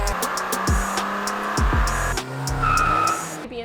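Tuned 2018 Volkswagen MK7 2.0T car running hard on a dyno, a loud continuous engine roar with repeated rising revs and gear-change dips.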